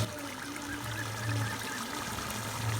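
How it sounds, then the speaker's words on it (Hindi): Water pours steadily into a pot of masala fish curry to make the broth, a continuous trickling splash with low bubbling underneath, close and moderately loud with no talk. "अब इसमें हम अपने हिसाब से शोरबा करेंगे, यानी पानी शामिल करेंगे"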